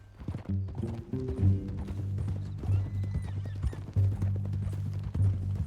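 Steady clip-clop of horse hooves in an even walking rhythm in the video game Red Dead Redemption 2, close and clear, with a horse whinnying briefly and faint creaks of tack.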